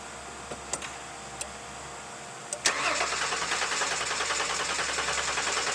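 A car engine with a replaced starter that still cranks slowly: a few clicks, then a steady, moderately loud cranking whir that continues without catching.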